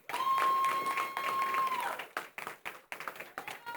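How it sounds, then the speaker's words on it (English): A board meeting audience claps for a student honored as first in the valley, a short burst of applause that thins to scattered claps, with a faint tone over the start. "Round of applause for Christopher Gonzalez."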